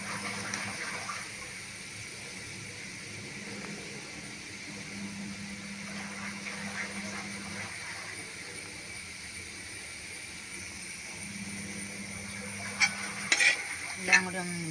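Vadukapuli wild lemon pickle with salt is stirred in a pan over a low, soft sizzle, with occasional scraping strokes and a few sharper utensil knocks toward the end.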